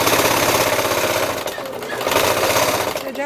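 A sewing machine stitches a seam on a formal pleated skirt, running loud and steady throughout with a fast, continuous mechanical chatter.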